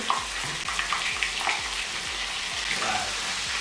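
Malaysian potato patties (bergedil) fry in oil in a small milk pan, a dense close sizzle with a rapid, regular spattering pulse throughout and no voices.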